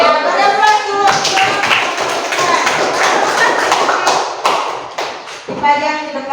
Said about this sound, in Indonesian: Ya, beri aplaus dulu untuk kalian semua.